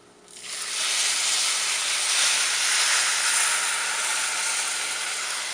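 A loud hiss bursts up suddenly and holds steady, a vigorous sizzle of water poured into a hot pot of toasted rice, close by with no talking.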